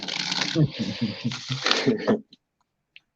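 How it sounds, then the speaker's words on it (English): Tarot cards are riffled and shuffled for a reading, a dense crisp flutter running for about two seconds close up, then a couple of faint taps, with a voice speaking over the shuffling. "One more shuffle here, Simone"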